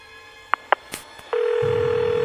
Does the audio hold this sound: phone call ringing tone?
yes